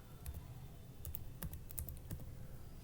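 Someone types on a computer keyboard, producing a handful of sparse, crisp key clicks at irregular intervals, quiet against a soft room hiss, without speech.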